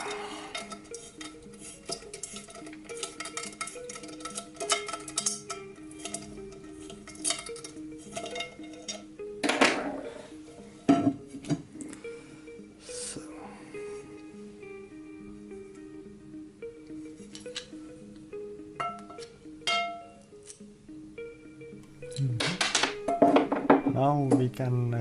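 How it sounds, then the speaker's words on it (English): Handling a black non-stick frying pan during unboxing, with scattered metallic clinks, scrapes and knocks at uneven intervals, some sharp and close, mixed with rustling and a person talking intermittently. "and I'm gonna screw that as well"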